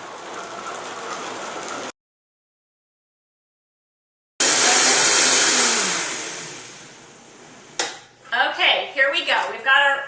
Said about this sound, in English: we're going to flip it on right here, and we're going to blend.